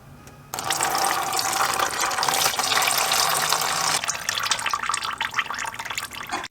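Engine oil and coolant drain out of a car engine as a steady, loud splashing pour of liquid, running continuously for several seconds before thinning to a dribble near the end.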